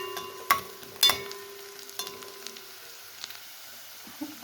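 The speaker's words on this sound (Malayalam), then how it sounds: "അതിനകത്ത് വെളുത്തുള്ളിയും പച്ചമുളകും ഇട്ട് കൊടുക്കാം. എന്നിട്ട് നല്ലതുപോലെ ഒന്ന് മിക്സ് ചെയ്ത് കൊടുക്കാം." Garlic and green chilies fry in a pan while being stirred, a soft sizzle punctuated by a few sharp spoon scrapes and clinks, close but faint.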